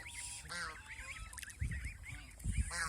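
A flock of large farm ducks gives repeated nasal, honking calls that overlap near and far, with louder close outbursts toward the end.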